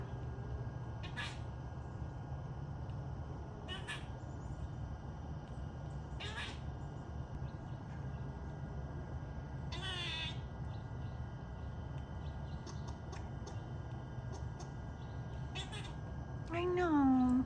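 Female cat meowing during grey squirrel mating season, several drawn-out calls spread over a steady background hum, with a loud, close, rising meow at the end.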